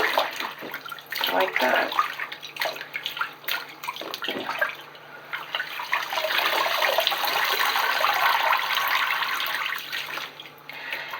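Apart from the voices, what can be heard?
dreadlocks being sloshed around in washing water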